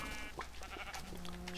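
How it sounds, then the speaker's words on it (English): Blocky sheep in Minecraft bleat in a few short game calls over a steady low hum, with no talking. "Sheep."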